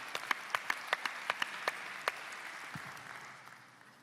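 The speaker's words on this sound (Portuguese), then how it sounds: "Gonçalves Pereira e a toda a equipa da APDC, para quem peço uma grande salva de palmas pela brilhante organização deste congresso" Applause at a media industry congress in Portugal, honouring the organizers: a short burst of sparse, distinct claps from a small audience that quickly thins out and fades.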